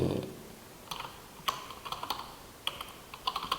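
Keys tapped on a computer keyboard while entering text into a file for a C program, a sparse run of faint, uneven clicks with short pauses, alone over a quiet background hiss.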